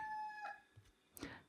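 A rooster crows once, faint and somewhat distant, with a drawn-out cock-a-doodle-doo at the start followed by a couple of brief clucks and a sharp squawk near the end.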